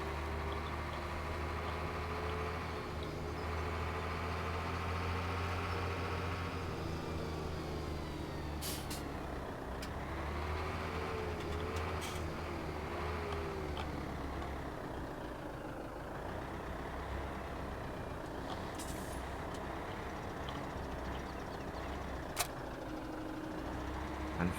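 A mid-range tractor engine in Farming Simulator 17 drones steadily and loudly throughout, its pitch rising and falling gently with throttle, with a few brief hissing bursts and no voices.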